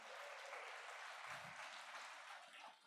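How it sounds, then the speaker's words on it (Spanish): A church congregation claps in a dense, continuous wash at low level, a steady blur of hands with a brief low thump partway through. "Dele ese aplauso al Señor."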